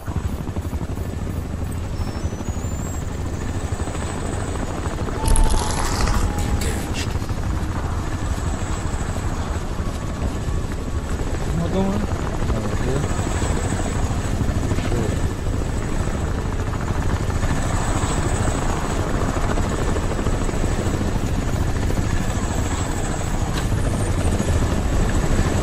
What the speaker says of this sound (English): has this helicopter been following me?